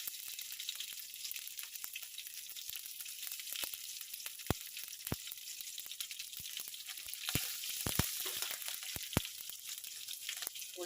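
Fenugreek and mustard seeds frying in hot oil for kadhi, a steady close sizzle with scattered sharp pops and crackles throughout.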